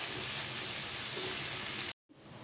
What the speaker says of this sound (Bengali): এখন আমি সবগুলি একত্রে মিশিয়ে নিয়ে এভাবে 3 মিনিট রান্না করব।